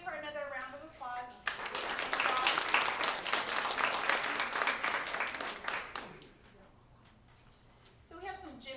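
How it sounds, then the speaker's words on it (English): An audience breaks into a loud, sustained round of applause for a woman, building quickly and holding steady for several seconds before fading, with a voice speaking briefly before and after. "let's give her another round of applause"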